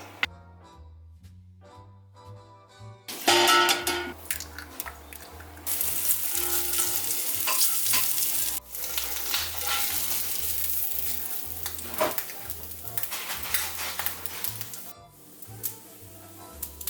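Beef fried rice and egg frying in a cast iron skillet, a bright, steady sizzle that bursts in after a quiet start, with clinks of stirring and scraping over a low background hum.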